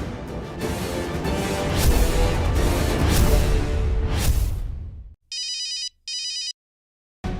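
A telephone rings late at night in two bursts of electronic trilling, separated by a short gap, sounding clear and isolated after a noisy whooshing passage fades out.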